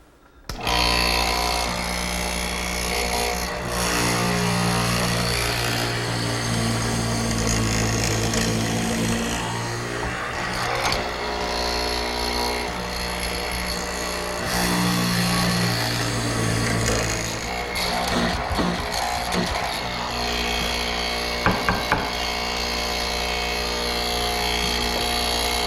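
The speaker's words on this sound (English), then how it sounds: "Here I've set up my stationary hollow chisel mortiser." A stationary hollow chisel mortiser with a 1/2-inch chisel and an inner drill bit cuts square mortises in wood, giving a steady, loud motor drone with a low hum throughout and shifting grinding as the chisel bites.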